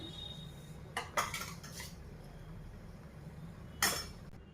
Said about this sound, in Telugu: ఈ గంటెతో ఒక గిన్నెలో నేను రాగి పిండిని కలుపుకుంటున్నాను